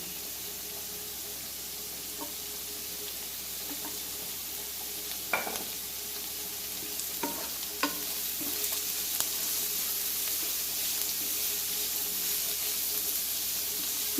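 Vegetables for vegetable upma sautéing over medium heat in a pan, a steady soft sizzle with a few light scrapes and stirring knocks, close and alone with no talking.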